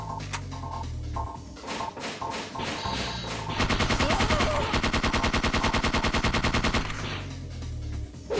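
A machine gun in the Parasite Eve 2 video game dumps its magazine in a long rapid burst of evenly spaced shots, loud and close. It is framed by shorter bursts and mechanical clicks, with no voices.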